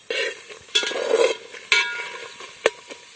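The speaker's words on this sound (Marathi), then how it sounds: "तर हा कांदा असाच थोडा वेळ गरम करून घ्यायचा आहे आणि त्यानंतर मग त्यामध्ये तेल टाकणार आहोत तर थोडा वेळ असाच आपल्याला हलवीत राहायचं आहे" Chopped onion being stirred in a dry pan before any oil goes in, soft scraping and light sizzling with a few sharp clinks of a spoon against the metal, fairly quiet and unaccompanied by speech.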